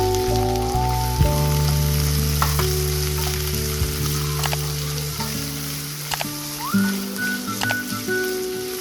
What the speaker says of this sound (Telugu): తర్వాత అదే కడాయిలో ఆయిల్ వేసి 4 మీడియం సైజు ఉల్లిపాయలు వేసుకొని బాగా వేయండి.